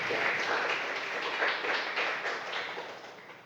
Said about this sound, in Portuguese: Aplauda ao Senhor pela sua palavra